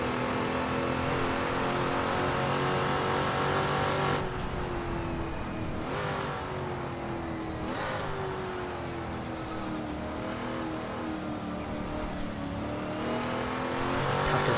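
A race car engine in Assetto Corsa at a virtual Goodwood Revival, with GT40s ahead, roaring and rising in pitch under full throttle, dropping briefly at each upshift before climbing again, loud and close.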